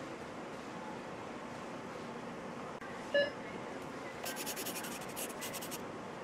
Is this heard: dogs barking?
no